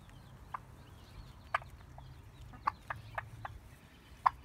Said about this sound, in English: but the chickens have figured it out.